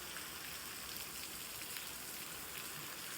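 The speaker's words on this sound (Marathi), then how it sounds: "वाढलाय पाऊस." Rain falls steadily, a faint, even hiss of drops spread wide across surfaces, continuous and without speech.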